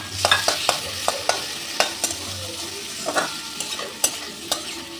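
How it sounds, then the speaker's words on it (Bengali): Halved large shrimp fry in a wok, a soft sizzle under sharp, irregular clinks and scrapes of a spatula stirring them, close and fairly quiet with no one speaking. "চিংড়ি মাছটা দিয়েও আমি ভেজে নেব।"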